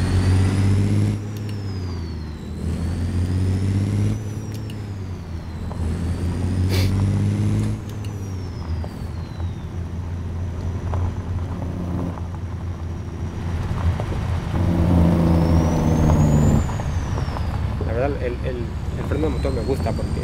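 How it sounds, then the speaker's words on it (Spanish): Heavy truck hauling gravel in American Truck Simulator, its diesel engine droning loudly with rising and falling turbo whine as it accelerates and shifts, and someone talks over it at times. "Me gusta el motor, la verdad, como suena."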